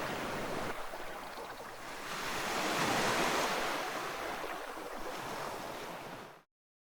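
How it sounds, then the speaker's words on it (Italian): Calm sea waves washing steadily onto the shore, a continuous soft surf with gentle swells rising and falling, some wind in the background, no voices. "Il mare è calmo."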